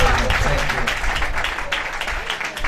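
A church congregation at a prophetic worship service claps for Jesus in sustained, dense applause that fills the room loudly and steadily, with voices mixed in underneath.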